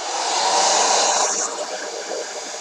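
A thrift-store blow dryer runs continuously at close range, a loud steady airy whoosh that shifts slightly in tone partway through while drying glue on a cereal-box postcard.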